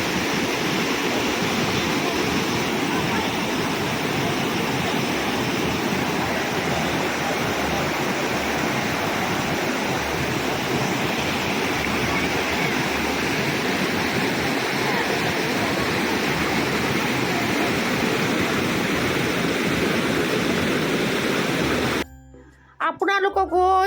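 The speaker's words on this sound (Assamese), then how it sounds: "ঝৰ্ণাৰ নিজৰাৰ চাউণ্ডটো শুনালোঁ আকৌ" A waterfall stream at Vasistha Ashram near Guwahati rushes steadily and loudly in a dense, continuous roar close by, cutting off abruptly at the end.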